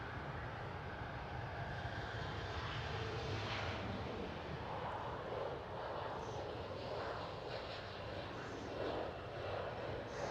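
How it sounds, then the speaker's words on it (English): An Airbus A380 touching down on Schiphol's center runway in Amsterdam: a broad, continuous jet roar, distant and steady for about ten seconds. "I do think A380 has touched down because I hear a lot of noise coming from the center runway"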